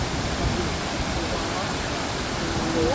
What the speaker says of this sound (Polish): Top wodospad w tym miejscu.